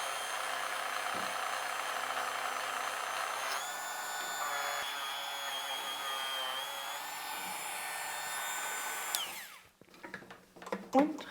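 A power tool whirs steadily while polishing a part of a vintage Pfaff 30 sewing machine, its pitch shifting as the load changes before it cuts off and leaves scattered clatter and handling noise.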